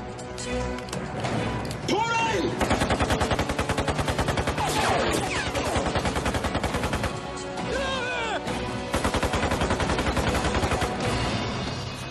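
Assault rifle gunfire in a prison tower standoff, with rapid bursts of shots rattling under loud dramatic music and a narrating voice, the shots repeating in quick clusters across the whole stretch.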